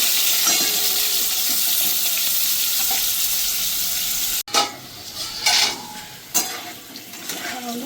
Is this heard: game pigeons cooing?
no